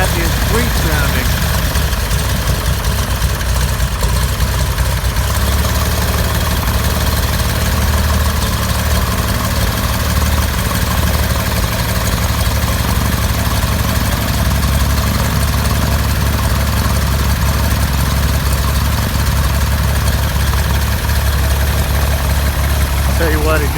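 Cessna 182 backcountry airplane engine idling, a loud, steady low rumble with constant vibration that holds throughout and deepens slightly after a few seconds.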